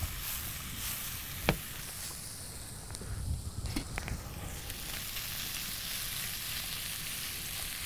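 Bacon and onions fry in a pan with tomato sauce nearby, a steady close sizzle broken by a sharp utensil tap near the start and a few scraping stirs midway, then continuing evenly.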